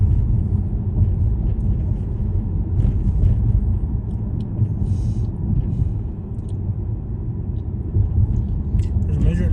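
A car drives at night through Port Arthur, Texas neighborhoods, its low engine and road rumble steady and close inside the cabin, with a person talking over it.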